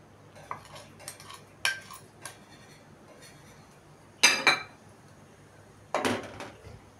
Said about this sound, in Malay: Kacau agar-agar sehingga hancur.